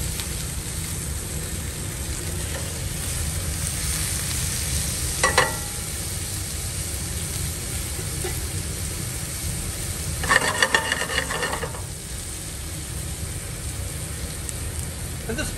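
Shrimp sizzling in a hot pan, a constant loud frying hiss with two brief bursts of crackle and scraping as the pan is worked.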